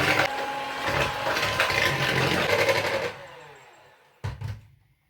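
A mixer whirs steadily while beating butter and sugars for cookie dough, a loud mechanical rattle that runs for about three seconds, winds down and stops, followed by a brief clunk.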